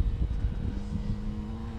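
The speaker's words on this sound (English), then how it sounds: "it flies a lot easier and a lot better than I thought" Hobbyking Tornado 75 RC airplane flying on 6S power, its propeller whine faint and distant, rising into a steady drone partway through over light outdoor rumble.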